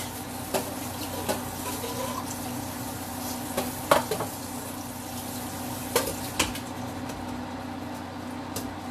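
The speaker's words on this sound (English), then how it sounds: "So I'm putting them in the strainer and draining them and rinsing them." Canned pinto beans are drained and rinsed in a strainer, with running water rushing steadily and a few light clanks and taps of the strainer and cookware.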